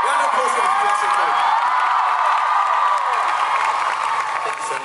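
Crowd applause and cheering at a K-pop concert, dense clapping and whoops filling the space loudly and steadily throughout.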